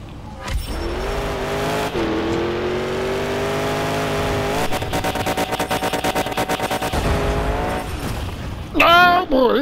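A monster truck engine in the Monster Jam Showdown video game revs loudly and climbs in pitch, with rapid stuttering bursts as it accelerates. A voice speaks over the engine near the end.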